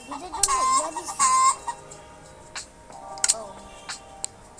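Chickens cluck and squawk in a Roblox video game, a burst of loud, close calls at the start, then scattered fainter clucks with game sound effects.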